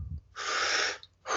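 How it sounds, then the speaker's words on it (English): A deep, full inhalation drawn steadily through the airway as part of a breathing-method exercise, close and fairly loud, followed by a brief pause and the start of a gentle exhalation. "basically a deep full breath and the gentle exhalation"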